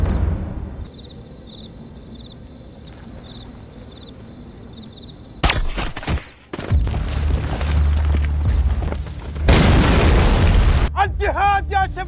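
A landmine detonates during a firefight, a sudden loud boom breaking a quieter stretch, followed by bursts of gunfire and chaotic battle noise, with shouting voices.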